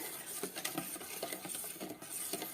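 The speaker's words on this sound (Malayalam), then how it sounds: "ഇനി ഇത് നന്നായിട്ടൊന്ന് മിക്സ് ചെയ്യുക" Yeast and sugar mixture being stirred for eggless buns, a soft spoon-against-bowl scraping with light irregular taps, fairly quiet and close with no talking.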